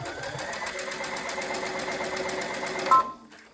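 A sewing machine runs steadily while stitching fabric for a hair scrunchie, giving a continuous rapid mechanical whirr for about three seconds before stopping with a brief clunk, close and alone.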